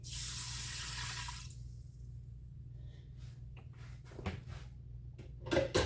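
Water pours in a steady stream into a pot for a second or so, then stops, followed by scattered clinks and small kitchen clatter nearby.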